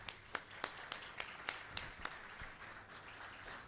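Sparse, faint clapping from a small audience welcoming a guest architect at a book launch talk, a slow run of separate claps heard at a distance in a quiet room.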